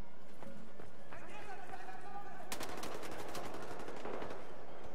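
Gunfire in the shooter game Wolfenstein: The New Order, a run of rapid broadband shots bursting out in the second half over steady game background noise, loud and close.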